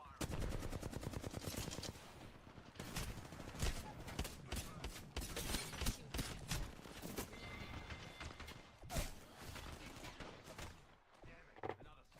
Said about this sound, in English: Knuckle buster firing